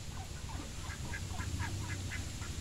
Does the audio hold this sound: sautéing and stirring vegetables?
no